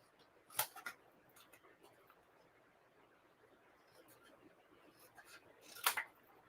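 Scissors snip through paper for a stamping card craft in a few short, crisp cuts near the start and again near the end, faint and close in a quiet room.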